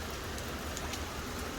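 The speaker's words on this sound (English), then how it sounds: "Just waiting for this rain to pass" Steady rain falls on and around an outdoor driveway gate installation site, a dense even hiss of drops with no voices.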